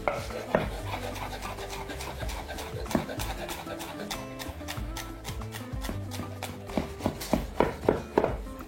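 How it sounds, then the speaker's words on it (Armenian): Fresh mint sprigs being chopped with a knife for a lamb and mango dish, a steady run of quick blade taps against a board under loud background music, growing sharper toward the end. "1 2 3 4 5 6 ճուղ նանա ենք կտրատում"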